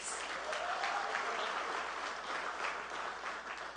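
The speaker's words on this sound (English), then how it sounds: "Give them a round of applause." Sustained audience applause at an outdoor political party public meeting in Arima, steady and dense throughout with no voices over it.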